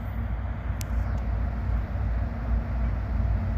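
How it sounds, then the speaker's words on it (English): A train rolls slowly past at night with its ditch lights on, a steady, heavy low rumble holding loud and even throughout with no talk. "There's a train, he's got the ditch lights out."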